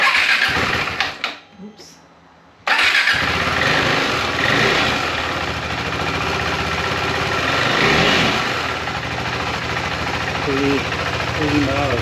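A KTM motorcycle with an upgraded exhaust cranks and fires up after a short pause, then settles into a loud, steady, rumbling idle with small throttle blips, close by, while people talk over it.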